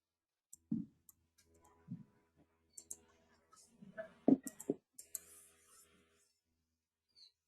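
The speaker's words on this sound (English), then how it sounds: "Then select this and double click." Mouse clicks at a computer during a CATIA design class, scattered sharp taps including a quick double click, mixed with faint muffled voices and small desk noises at moderate distance.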